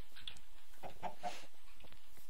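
Minecraft chicken clucking in a few soft, short bursts spaced across a couple of seconds, fairly quiet over a faint game background with no talking.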